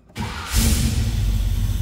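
A 1984 Chevrolet Monte Carlo with T-tops cranks and catches after a brief pause, then settles into a loud, steady idle rumble heard up close with no talking.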